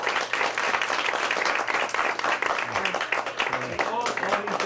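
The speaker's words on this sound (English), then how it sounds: "But let's give him a round of applause for Al." An audience at a museum talk on Lincoln memorabilia breaks into steady, dense applause that carries through the whole clip, with a voice speaking over the clapping.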